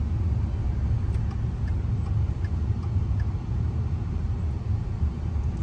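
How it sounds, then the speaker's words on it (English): Road traffic on the way into Accra, Ghana: a low steady rumble of cars and buses idling and creeping along, with faint clicks and distant engine noise, continuous and moderately loud. "And we've hit some traffic."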